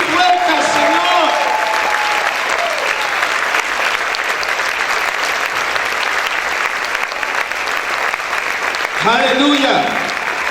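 Worshippers in a church applaud the Lord loudly, a thick, continuous wash of clapping that holds steady for several seconds, with a preacher's voice briefly heard over it at the beginning and again near the close.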